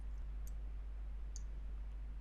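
Two faint, sharp computer mouse clicks a second apart while deleting a shape in the PicMonkey photo editor, over a steady low hum.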